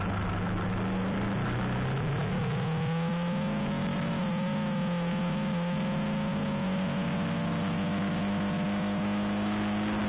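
A chopper or cafe racer motorcycle on a Sunday morning group ride throttles up and accelerates, its engine drone rising in pitch steadily and continuously, close and fairly loud with no talking.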